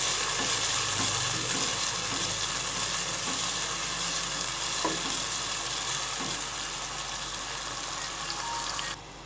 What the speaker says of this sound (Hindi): अब हम टमाटर डालकर अच्छी तरह इसको भूनेंगे।